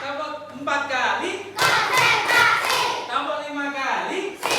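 A class of students claps in a short burst of sharp, overlapping hand claps mixed with children's voices, with talking before and after.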